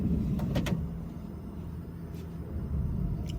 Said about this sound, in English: I think I'm gonna open the door for this.